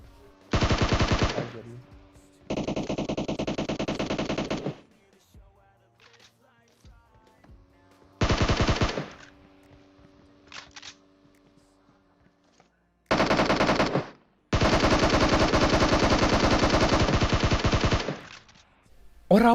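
Long automatic bursts of gunfire in the PUBG Mobile battle royale game, loud and close, several sustained rattling volleys separated by short pauses with quieter game ambience in between.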